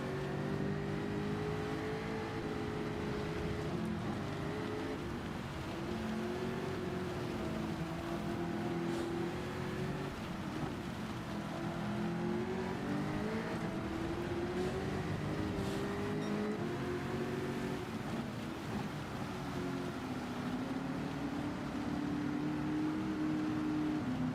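A race car drifts around the Dragon Trail Gardens circuit in Gran Turismo, its engine droning loud and steady for the whole stretch, pitch rising and falling as the revs shift through the slide.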